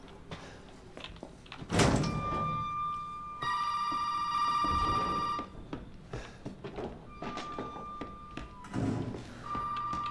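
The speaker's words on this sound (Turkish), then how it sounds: "Bakın telefon çalıyor." A telephone rings inside Resident Evil 7, a survival horror video game. A steady tonal ring holds for about two seconds, then short repeats follow amid footsteps, door thuds and other game noises.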